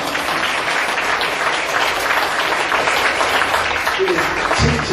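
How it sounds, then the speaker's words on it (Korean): Sustained applause from an audience at a Korean author talk and Q&A fills the room, a dense, steady wash of many hands clapping at once at high level, with a voice beginning near the end. "또 한 번 박수 주세요."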